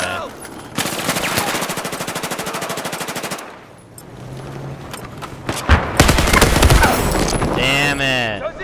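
Rapid automatic gunfire in a first-person shooter video game, with a long sustained burst, then scattered shots and another dense burst, loud and close, with game sound effects and a voice at times.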